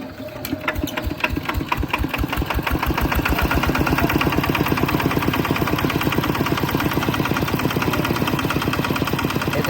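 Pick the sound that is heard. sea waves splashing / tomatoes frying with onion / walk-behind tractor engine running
walk-behind tractor engine running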